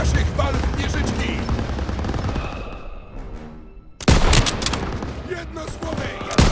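Heavy rapid gunfire and explosions sound from a World War II shooter game, Call of Duty: WWII, sustained close fusillade that thins out, then bursts back loud with a sharp boom.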